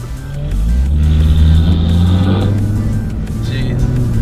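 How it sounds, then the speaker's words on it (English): A Corvette engine revs loudly nearby in a parking area, a deep, swelling roar that rises and eases back, with faint talk underneath. "Dang, that Corvette's loud."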